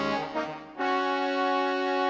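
The "New French" preset on a VFX synthesizer keyboard, used for a song, plays a soft, wavering tone that swells into a bright, sustained chord with rich overtones, heard alone at moderate volume.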